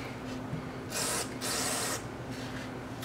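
Two quick hissing bursts of gun cleaning spray hit small pistol parts from a 1911, each lasting about half a second, close and crisp against a quiet room.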